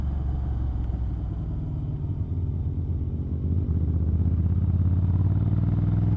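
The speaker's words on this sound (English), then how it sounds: "I'm just hearing the Triumph there accelerate away." A Triumph Bonneville motorcycle accelerates away on a village road, its engine a steady low rumble that swells slightly in loudness partway through, with no talk over it.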